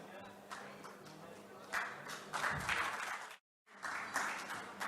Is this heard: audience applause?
yes